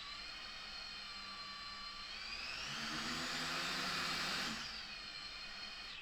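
A homemade drone's propellers spin up for flight indoors, producing a steady whirring motor whine that rises in pitch and loudness midway, holds, then drops back, with no talk.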